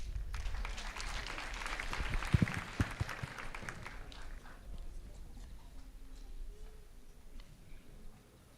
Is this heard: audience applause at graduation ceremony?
yes